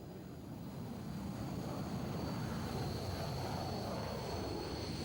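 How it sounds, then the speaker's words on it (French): Mirage F1, Jaguar and Mirage 2000 combat jets taking off during Operation Desert Storm in 1991, a steady distant jet-engine roar with broad rushing noise that slowly swells and holds. "les avions de combat Mirage F1 et Jaguar sont suivis au décollage par les appareils de supériorité aérienne Mirage 2000"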